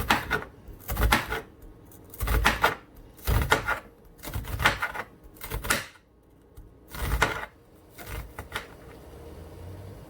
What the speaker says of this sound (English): I'm gonna slice some onions.